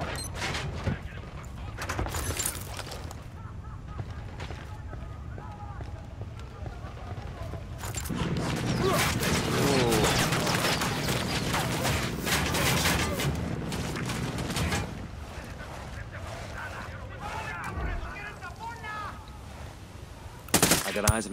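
Mounted-weapon gunfire in the video game Ghost Recon Wildlands, rapid bursts and sustained automatic fire rising and falling over about twenty seconds, with speech over parts of it.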